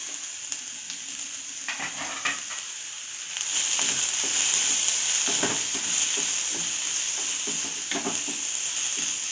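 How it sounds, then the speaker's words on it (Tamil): Green chilies, curry leaves and coriander sautéing lightly in a pan, a quiet sizzle that swells louder partway through, with scattered soft scrapes and stirring taps and no voices. "பச்சை மிளகா, கறிவேப்பிலை, கொத்தமல்லி எல்லாமே நான் சேர்த்துட்டு லேசாக வதக்கிக்கிறேன்"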